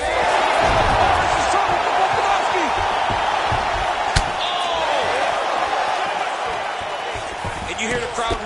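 Arena crowd noise in the UFC 5 fighting video game, a continuous roar with a sharp impact thud midway and swelling reactions under commentators' talk.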